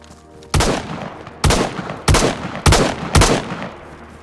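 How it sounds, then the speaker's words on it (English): Five loud gunshot bursts from DayZ crack out at irregular intervals of roughly half a second to one second, each with a sharp attack and a short decaying tail, standing clear over a quiet background. "There's bullets going off."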